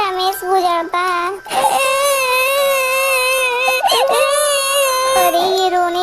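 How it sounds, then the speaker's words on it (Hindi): A boy sits under a tree crying loudly, with sustained wailing sobs and brief catches of breath running through the whole stretch, close and alone. "अरे ये रोने की आवाज किसकी है?"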